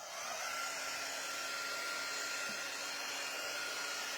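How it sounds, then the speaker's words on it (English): A hair dryer blowing steadily on a chalk couture sign, a constant close whirring hum with airy hiss that runs unbroken throughout without any voices. "I'm gonna go ahead and dry this sign really quickly."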